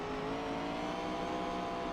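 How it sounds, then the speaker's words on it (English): Race car engine in a sim racing game on Langley Speedway, throttled steadily up as the driver works the car through a turn, a sustained droning whine that holds close and loud for the whole stretch with no voices. "You hear Lucas, he's definitely throttling it up. He's trying to get the car to rotate with the throttle."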